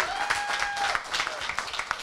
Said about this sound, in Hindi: इन सभी के लिए एक बार जोरदार तालियां हो जाएं